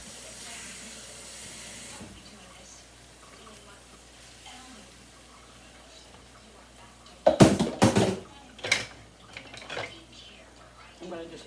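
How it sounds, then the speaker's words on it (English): A sudden loud burst of hissing and sizzling as water hits a hot pan, flaring for a couple of seconds then settling into quieter bubbling after low kitchen clatter. "I'm gonna add some water to this."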